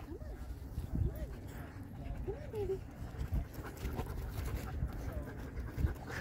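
A Caucasian Ovcharka dog at an outdoor dog park pants in quick rhythmic bursts and lets out a few high whimpers, close and fairly quiet, while people talk nearby.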